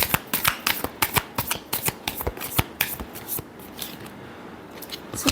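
Tarot cards shuffled by hand in a rapid series of crisp riffling flicks, close and clear, with no talking.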